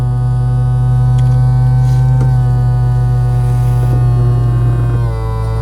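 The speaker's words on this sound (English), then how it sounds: "we're listening for the change of note as the roof comes down" Electric motor of the retracting roof on a VW California Ocean camper van, a loud steady drone and hum whose pitch shifts slightly near the end, with a few faint clicks and no speech.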